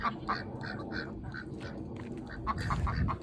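Ducks quack repeatedly in quick, uneven bursts, moderately close, with a low rumbling background underneath.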